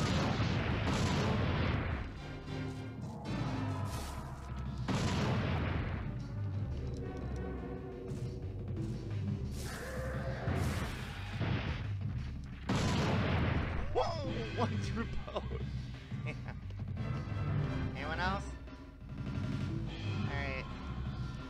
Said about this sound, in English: Anti-tank rifle against fucking raptors